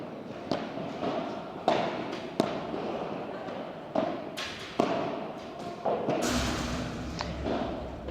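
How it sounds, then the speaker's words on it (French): Padel balls are struck during a French championship doubles match, giving sharp isolated pops at irregular intervals over a muffled, reverberant court ambience, with a brief rush of noise near the end. "Donc du coup Léa elle a pu l'accélérer cette balle"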